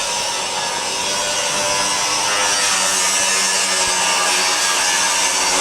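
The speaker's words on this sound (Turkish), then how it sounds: "sanayi sitesinde şu sıralar makine ve spiral seslerinden başka ses yükselmiyor" Machines and an angle grinder at work in an industrial workshop, a loud continuous grinding and whirring roar that holds steady throughout without a break or any talk.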